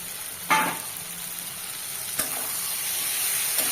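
Fish is dropped into spice paste frying in a pan, giving a sudden sharp hiss at the start. A steady, fairly loud sizzle then carries on, with one brief clink partway through.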